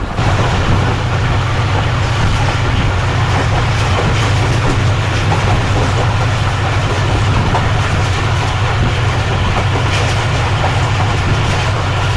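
The Shalimar Express runs at speed behind its locomotive, a loud, continuous rumble and rattle of wheels and carriages with no pause, heard from inside the train.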